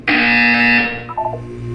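A loud, harsh buzzer sounds in a Portal 2 test chamber, holding one steady electronic blast for nearly a second before it cuts off and fades into low tones.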